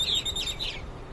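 Purple martin giving a warning call outdoors, a few high, thin chirps and twittering notes in quick succession over a low background rumble, with no one talking.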